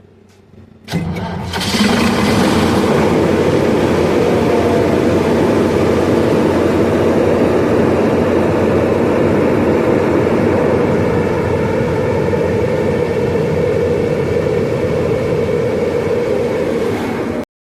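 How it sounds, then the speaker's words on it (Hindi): Old Greaves G series G6 diesel generator engine, recently serviced and with a faulty controller, cranks and fires after a second of quiet, then runs loud and steady with a rough low rumble, close up, with no talk. "ये हमारा ग्रीव्स का जी सीरीज़ का इंजन है, G6। काफ़ी पुराना इंजन है।"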